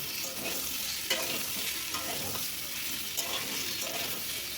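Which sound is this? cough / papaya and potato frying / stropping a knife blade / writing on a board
papaya and potato frying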